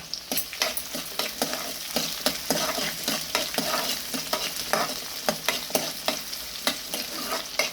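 Small onions and dried red chillies sautéing in oil in a pan, with a continuous close sizzle and a quick, regular tapping of a stirring spoon against the pan throughout.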